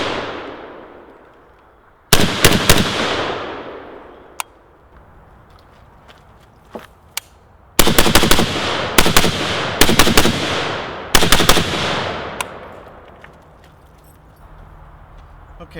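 An M92 PAP AK short-barreled rifle with a 10.5 inch barrel fires outdoors in several bursts of sharp, loud cracks with ringing echoes, separated by quiet pauses and a few lone shots.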